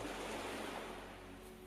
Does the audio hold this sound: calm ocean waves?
yes